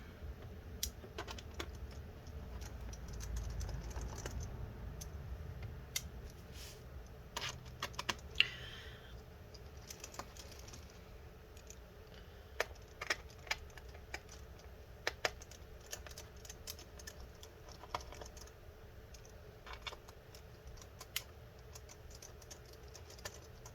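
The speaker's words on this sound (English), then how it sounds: "we're just going to go ahead and remove all these screws here" Small Torx 5 screwdriver backing out the bottom-case screws of a 13-inch Mid 2012 MacBook Air A1466, a quiet run of sharp ticks and clicks scattered irregularly, close up, with no talking.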